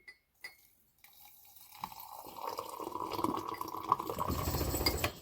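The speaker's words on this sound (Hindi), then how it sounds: "ये है पानी डाल दिया।" Hot water poured into a bowl, a few clinks at first, then a rising, sustained splashing pour that grows fuller over several seconds, close by with no talking.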